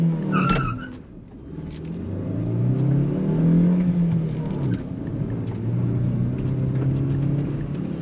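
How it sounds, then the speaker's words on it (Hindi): A Maruti Grand Vitara's 1.5-litre K15C smart hybrid naturally aspirated engine revs up toward 5000 RPM, its tone climbing and swelling, dipping, then rising again into a sustained loud drone with a brief tyre-like squeal near the start. "raving till 5000 RPM"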